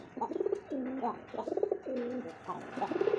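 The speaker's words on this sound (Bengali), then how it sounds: "এরকম লক্ষ্মী কবুতর দেখেন নটটা ডাক দিছে" A male Lakka pigeon coos up close in repeated rolling phrases, each a throaty, wavering call following the last with brief gaps.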